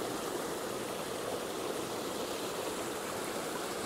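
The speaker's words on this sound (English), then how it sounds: "Just a little stream in the mountains." A small, clear mountain stream beside a trail off the Blue Ridge Parkway flows on an evening hike, giving a steady, even rushing and babbling wash that continues unbroken without voices.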